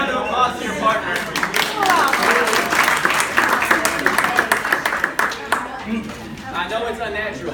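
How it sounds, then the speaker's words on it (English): Audience members applaud their partners in a leadership workshop, a dense burst of clapping that swells, holds for several seconds and then fades to scattered claps with voices murmuring. "Go ahead and give a round of applause to your partner."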